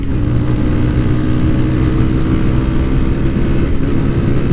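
A Keeway RKV motorcycle engine fitted with a Yoshimura exhaust runs loud and close, a steady throaty drone held at roughly even revs for several seconds.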